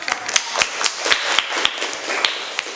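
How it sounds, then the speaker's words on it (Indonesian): A small classroom group claps hands in a loose, uneven rhythm, with sharp individual claps standing out above a softer patter, close and fairly loud with no talking. "Ya, tepuk tangan."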